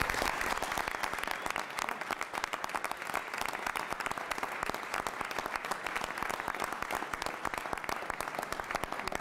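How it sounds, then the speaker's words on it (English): Sustained applause from an audience at an Elmhurst city council meeting, dense and steady clapping filling the room for about nine seconds without a break. "another round of applause."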